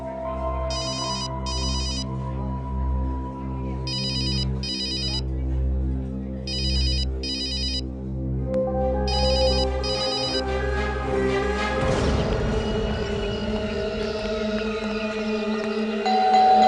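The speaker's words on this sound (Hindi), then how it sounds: "फोन करने पर फोन नहीं उठा रहा है" A telephone ringtone repeats in regular bursts, ringing on without anyone answering, over a low sustained musical drone that swells toward the end.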